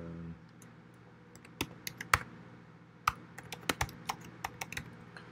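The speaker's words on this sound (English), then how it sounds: "I want to type everything out, you know, just get a little practice at typing" A computer keyboard clacks in uneven bursts of single keystrokes and quick runs, close and fairly quiet against a low steady room hum, with no talking.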